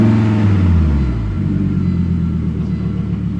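A 1998 Volvo C70 engine, already warmed up and running a little rough, revs up loud and close with a deep rumble, then settles back into a steady idle.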